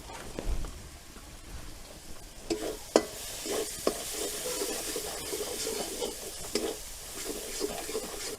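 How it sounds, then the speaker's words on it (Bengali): Chili powder masala with jackfruit and prawns frying in a pan, a soft continuous sizzle broken by repeated scraping stirs and taps of a spoon, fairly quiet and without speech. "অল্প অল্প জল দিয়ে কষিয়ে নেব স্বাদ মতো"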